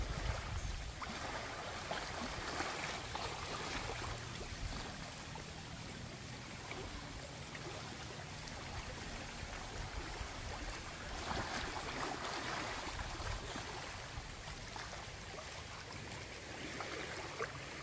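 Sea waves wash steadily at the seaside in a province just after an earthquake, a faint, continuous surf rush with no breaks and no voices.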